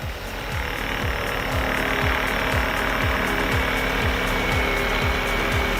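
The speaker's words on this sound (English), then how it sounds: "this machine delivers the extra power needed to drill through even the" A large soil-drilling rig with 50% more internal torque than its predecessor bores through tough ground. It makes a loud, steady grinding roar with regular low thumps about twice a second, and no voices are heard.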